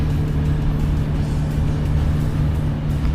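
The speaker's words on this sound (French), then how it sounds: "Ah ça y est, tous les véhicules sont descendus." Vehicles roll off a river ferry on the Loire, a steady close engine rumble and road noise continuing without pause.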